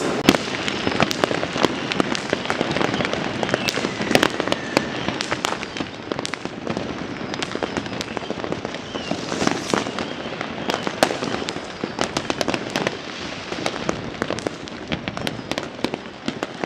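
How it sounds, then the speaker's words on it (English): Fireworks and firecrackers go off at midnight on Christmas Eve, a dense, continuous barrage of sharp cracks and bangs overlapping near and far with no pause, loud throughout and without any talking. "fireworks have been going crazy for the last 30 minutes."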